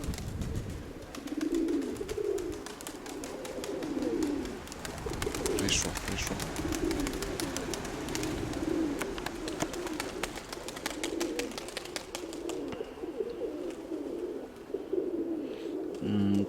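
A pigeon coos repeatedly in low, soft, throaty phrases at a steady rhythm, fairly close, over a faint ambient background.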